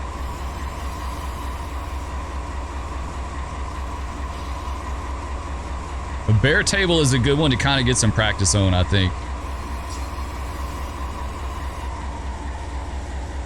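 A BNSF train running at about 70 mph across the desert in the Run 8 Train Simulator game gives a steady low rumble throughout, with someone talking over it partway through.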